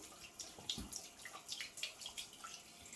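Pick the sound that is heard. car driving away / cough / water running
water running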